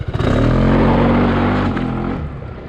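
A 2021 SYM Cruisym Alpha 300 scooter accelerating hard with traction control off, its engine roaring loud and close in one sustained surge that rises in pitch before easing off.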